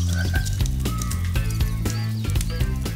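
Repeated low croaks from a frog in Spyro Reignited Trilogy's Sunny Villa, sounding steadily over layered game music and ambience at a constant loudness.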